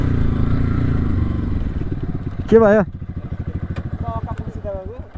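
A motorcycle ridden around Baglung, Nepal, gives a close, steady throbbing engine pulse that fades in and out, with a brief voice speaking over it partway through.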